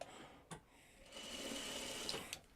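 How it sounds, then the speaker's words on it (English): Sewing machine stitching a quilt block diagonally a quarter inch from the line, a short quiet burst of fast, even stitching whir between a couple of soft clicks. "so sewed it cross diagonally, 1/4 inch away"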